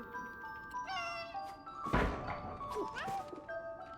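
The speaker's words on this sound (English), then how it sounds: "Why is that cat meowing?" A cat meows in the video game 11-11: Memories Retold, rising, whiny cries over tonal background music, with a heavy thunk midway.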